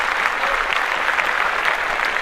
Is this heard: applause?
yes